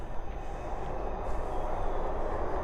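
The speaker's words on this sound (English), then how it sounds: "So there's a train going under us." A train passing underneath a bridge rumbles by with a dense, steady roar, close and loud, no voices over it.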